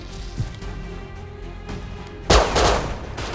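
Gunfire in the video game Rust: a few scattered shots early, then a louder burst of firing erupting near the end, with game ambience underneath.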